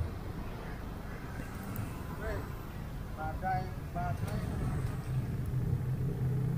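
Idling and creeping vehicles crowd a busy street intersection in Seminyak, Bali, a steady low rumble of engines with faint horn-like tones and voices under the traffic.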